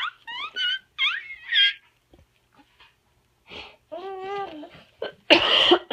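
A cat coughs indoors, a harsh, wheezy burst near the end, preceded by scattered vocal sounds and short breathy noises.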